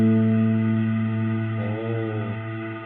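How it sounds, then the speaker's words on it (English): Sustained guitar notes ringing through a long plate reverb effect, a loud continuous harmonic tone with a shift in pitch midway and a smooth washing tail, no talk. "a little bit of an extended plate reverb"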